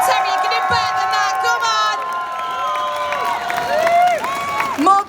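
A comic con crowd in Liverpool cheering and shouting, a bright mass of voices with whistles and calls that swell and fade over several seconds, close and loud with individual shouts standing out.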